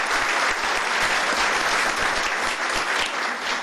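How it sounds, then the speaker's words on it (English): Applause honoring five-year employees at a county commissioners court meeting, a room full of people clapping in a steady, continuous wash that holds at the same level. "Let's give them a round of applause."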